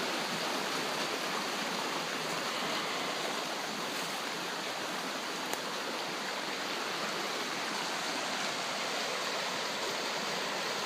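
Flood water rushes continuously in a dense, steady roar, like a fast-flowing stream close by, with no pauses throughout.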